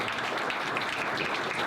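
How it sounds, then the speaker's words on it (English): Audience at a Tehachapi city council meeting applauding a Scoutmaster, a continuous, even burst of many hands clapping, fairly loud and unbroken, with no voices over it. "How about a nice round of applause?"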